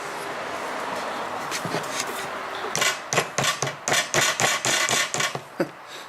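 Hammer taps driving pins through micarta scales on a fixed-blade knife handle, a run of about a dozen sharp, close, evenly spaced strikes after a quieter stretch of low handling noise.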